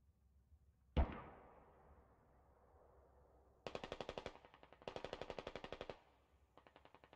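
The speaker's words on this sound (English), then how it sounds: "A lot of suppressing fire." Suppressing gunfire in the video game Squad: one sharp shot, then several rapid bursts of automatic fire, crisp and fairly close.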